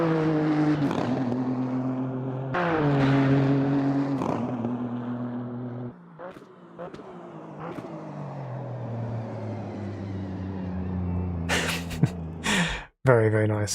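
A GT3 race car in the sim racing game Automobilista 2, its engine droning and shifting pitch through a chicane, with a short burst of louder revving near the end.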